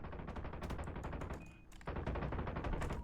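Rapid automatic gunfire in a video game: dense bursts of shots with a short pause midway, then continuous firing resumes, loud and close.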